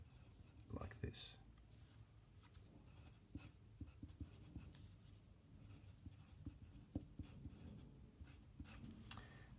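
A pen scratches out a coordinate-form answer to a circle tangent problem from a 2015 VCAA maths exam, faint and close, with soft, irregular strokes and small ticks over a quiet background.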